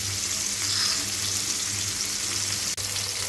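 Continuous close sizzling of food frying in a pan while it is stirred during home cooking of polao with beef, a steady hiss with faint scraping and one brief break near the end.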